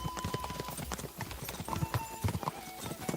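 Rapid hoofbeats of a galloping horse in Kingdom Come: Deliverance 2, a steady rhythmic clatter close by, with scattered game sounds in the background.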